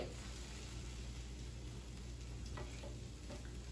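Food sizzles in an electric skillet with a steady, even hiss that holds throughout, close by and without talk.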